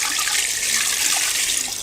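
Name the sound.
water being poured to prepare amirthakaraisal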